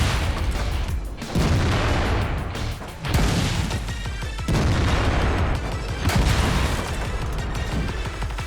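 A rapid-firing tank cannon in a video game booms in a heavy, nearly continuous barrage, loud and close, with several sharp blasts breaking through a constant roar of battle.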